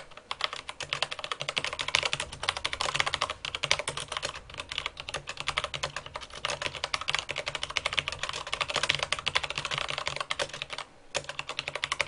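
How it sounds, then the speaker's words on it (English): Rapid, heavy computer keyboard typing hammers on without pause, a dense clatter of angry keystrokes during a Dota 2 match, close and loud with no talk over it. "You're a lot of rage typing."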